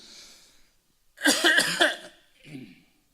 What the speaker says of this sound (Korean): 기침이 계속 나오려고 그래요.